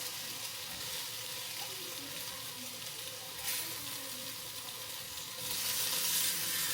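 Chicken browns in a pan. A quiet, steady sizzle runs throughout and grows louder and more hissing near the end.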